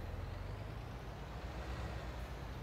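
A truck with a trailer in the game Farming Simulator 19 gives off a steady, low engine rumble with road noise, continuous and faint, with no talk.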